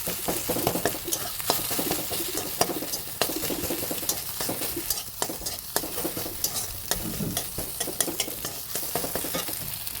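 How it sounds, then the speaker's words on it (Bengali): Continuous loud frying sizzle in a pan, broken by frequent sharp scrapes and taps of a spatula stirring. "এখানে আমি একটা ডিম ভেজে নিচ্ছি"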